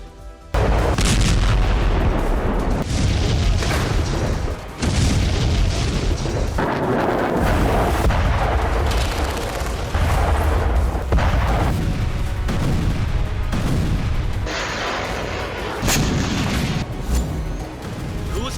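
A long run of heavy, booming explosions from a missile strike on the Black Sea Fleet near the port of Sevastopol, loud and close, with crackling blasts overlapping and almost no pause between them.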